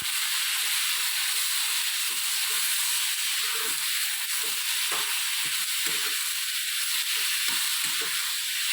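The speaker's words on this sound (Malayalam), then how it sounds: "തക്കാളി നന്നായിട്ടൊന്ന് വഴന്ന് വരണം." Tomatoes sauté in hot oil in a pan for tomato sambar, giving a steady, dense sizzle and hiss throughout, with occasional soft clicks and scrapes of stirring close by.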